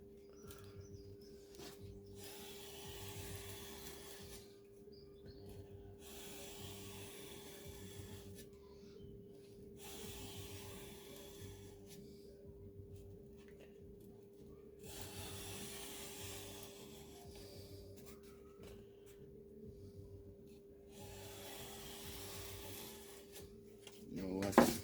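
A chef knife blade is hand sanded on a sanding board, with steady, rhythmic back-and-forth rasping strokes over a constant low hum, close and moderately quiet.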